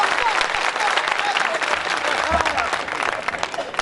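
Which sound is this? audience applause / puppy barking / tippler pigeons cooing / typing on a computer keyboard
audience applause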